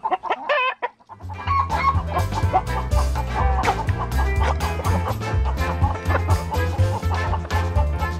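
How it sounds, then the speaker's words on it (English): An agitated hen clucks protectively near her chicks in a backyard coop, with steady clucking over a loud, dense musical backing throughout. "That chicken is mad that I went in near her babies."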